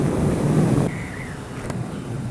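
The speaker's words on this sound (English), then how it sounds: "it's so windy" Gusty wind roars and buffets the microphone, then abruptly drops to a lighter rushing breeze with a faint distant tone.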